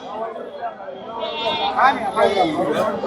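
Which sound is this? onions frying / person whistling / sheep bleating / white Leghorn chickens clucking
sheep bleating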